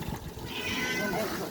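A cat meows outdoors in cold winter sunshine, giving a few drawn-out, fairly close cries over faint background noise.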